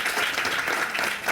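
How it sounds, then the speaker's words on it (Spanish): Steady, dense applause from an event audience honoring the panelists at a conversatorio, loud and continuous throughout with no talking over it. "quisiera pedirles también un aplauso para"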